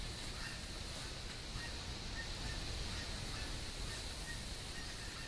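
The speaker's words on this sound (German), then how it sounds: "Gänse sind hier immer unterwegs." Wild geese in the hunting game theHunter honk faintly in the distance against a steady wind-like ambience, with scattered soft calls and no voices.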